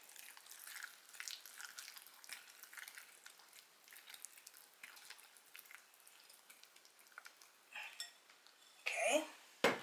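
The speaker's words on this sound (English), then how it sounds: "And I'm going to stir that in." A utensil stirs dairy-free butter into a crustless apple pie mixture in a bowl, soft scraping and clicking taps repeating quietly before a louder clatter near the end.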